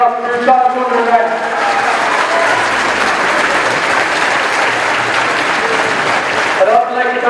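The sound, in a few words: crowd applause for Mark Nolan and Jerry Sotts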